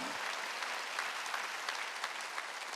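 A church congregation at a Korean Wednesday worship service claps together in a dense, steady burst of applause that fills the room throughout, with no voices standing out.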